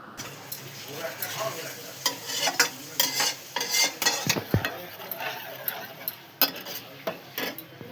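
Masala spice paste sautés in a pan for a vegetarian paneer curry, with a constant sizzle under repeated scraping spatula strokes and clanks against the metal, close and busy throughout.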